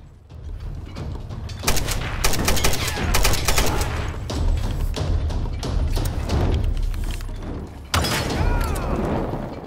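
Gunfire in the video game Tomb Raider 2013: loud, dense bursts of rapid shots and heavy thuds that fill the whole stretch, with a fresh volley near the end and no talking.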